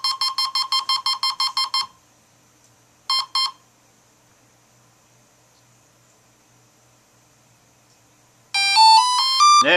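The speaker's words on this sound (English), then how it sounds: "Two beeps, battery type." A Red Brick 30A electronic speed controller emits programming tones: a fast run of about ten beeps, a pause, two short beeps, then a louder rising multi-tone melody after several seconds of near silence.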